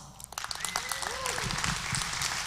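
Applause at a conference for Robert Grant, founder and CEO of Crown Sterling, builds from scattered claps into a fuller, steady clatter, with some talk and a faint tonal sweep mixed underneath.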